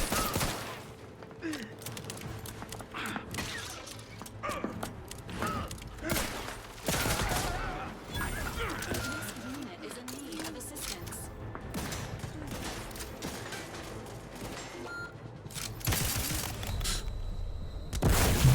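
Gunfire in The Outer Worlds 2, repeated loud bursts and single shots spread across a chaotic firefight, with someone talking over parts of it.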